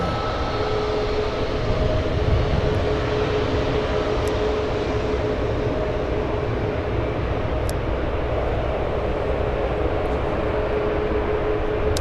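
Steady, loud jet engine roar from an Alaska Airlines airplane bound for Seattle at San Francisco International Airport, a continuous broadband rumble with no break across the span.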